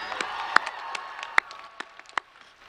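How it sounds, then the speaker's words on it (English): Graduating students at a stadium ceremony clap for themselves in scattered, sparse handclaps, a few sharp individual claps standing out over a quiet background rather than a full roar of applause. "Why don't you give yourselves a round of applause?"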